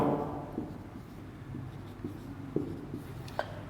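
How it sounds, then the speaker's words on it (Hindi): Chalk or marker tapping and scraping across a classroom board as sentences are written in a grammar lesson, a few sharp close knocks between softer strokes, no voice. "फिलहाल देखिए आप, 1-2 सेंटेंस में आपके सामने लिख रहा हूं"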